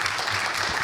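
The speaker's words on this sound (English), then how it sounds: "Let's thank our speakers with a round of applause again." Audience applause for the panel speakers at an urban tech forum on smart offices, a brief steady wash of clapping from a seated crowd.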